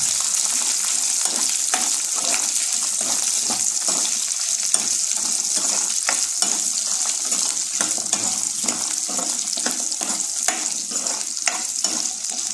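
Five dried red chillies, green chillies and three pieces of tamarind sauté in a pan, producing a steady bright sizzle with soft, repeated stirring scrapes throughout.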